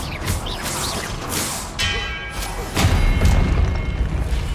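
Confringo fire spells blast in Hogwarts Legacy gameplay, giving loud, booming explosions that roll into one another with swishing bursts and a heavier crash near the end.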